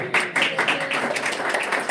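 A congregation at a Samaria church service claps in a brief, fairly dense round of applause, close and lively, with a voice speaking under it.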